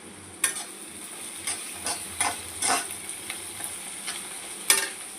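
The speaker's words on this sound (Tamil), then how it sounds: "வெங்காயம் நல்லா வதங்கட்டும்" Onions fry in a pan with curry leaves and dried red chilies, giving a constant bright sizzle broken by a series of nearby scraping stirs, with no voices.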